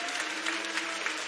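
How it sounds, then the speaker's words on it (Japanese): Fans and boosters at a Levanga Hokkaido versus Toyama Grouses basketball game give a big, continuous round of applause, a broad crowd roar of many hands filling the arena. "ファンブースターの皆さんから大きな拍手が送られています。"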